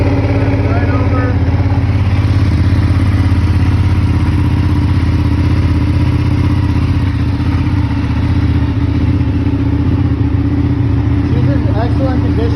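A 2019 Ducati 959 with stock exhaust and a clear clutch case cover idles after a cold start, a loud, steady, close rumble with mechanical clatter; a voice speaks over it.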